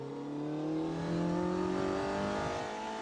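A Caterham S1 Sport 190 sports car engine revs up in a rising, throaty whine, steady and prominent, with no talking.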